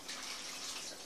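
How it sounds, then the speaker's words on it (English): Water pours in a brief, quiet, steady splash into a gold panning washing pan at a quarry, a soft hissing trickle heard on its own. "I'll get a wee drop of water in the washing pan"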